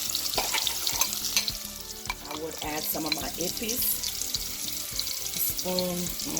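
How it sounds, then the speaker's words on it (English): Cloves and spices frying in a pot while making Haitian pigeon peas and rice, a steady close sizzle with clinks and scraping stirs throughout and a few faint tonal kitchen sounds. "I'm gonna let this fry before I add my beans for about a couple of minutes"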